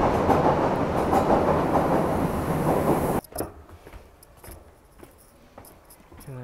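A run-down European subway train roars loudly for about three seconds, then drops to a quieter rattling clatter with scattered clicks and knocks.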